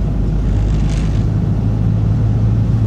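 A Peugeot 508 RXH hybrid car accelerates with a steady, loud, low engine rumble that holds evenly throughout, with no voices.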